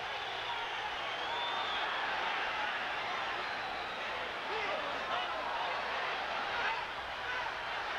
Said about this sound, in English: listen to this crowd in San Antonio